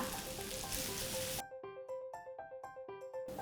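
Drunken-style instant noodles with bacon sizzle steadily in a hot pan, first as a loud continuous hiss, then under plucked music notes as the frying quiets.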